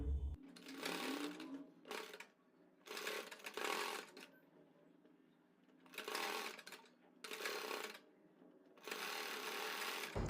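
A sewing machine stitches elastic onto a palazzo in several short, fast whirring runs of one to two seconds each, separated by brief pauses, close and steady in tone, with no talking.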